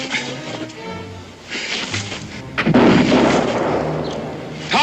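Gunfire in a frontier Western skirmish: loud rifle shots crack and boom out, with a big blast near the middle that rolls on for a couple of seconds, and a faint voice earlier.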